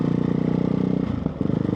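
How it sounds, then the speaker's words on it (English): A Ducati Hypermotard 698 Mono single-cylinder motorcycle engine runs loud and close, a steady throbbing drone that dips briefly near the end before picking back up. "It's a single cylinder engine and it's really loud."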